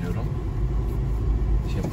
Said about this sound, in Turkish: Washington'da araba sürüyorum.